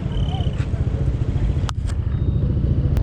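Motorcycle engines rumble close by in a continuous low drone at a crowded light festival in Thailand, with a few sharp clatters and voices mixed into the street noise.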